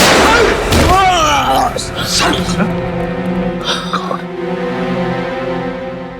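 A single loud, sharp gunshot cracks near the start of a scene from a crime TV series, then voices speak over the fading room sound.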